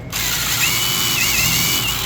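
A power drill runs steadily while pre-drilling through shims for an interior window installation, a loud continuous whine with a slight pitch waver, alone with no talk.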